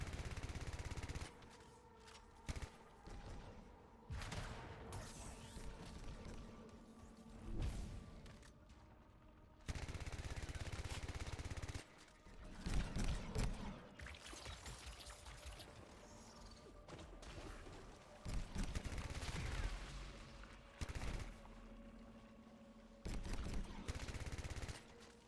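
Rapid bursts of gunfire from hovering combat in the video game Anthem, loud and repeated in long volleys with mechanical clatter between them and almost no talk.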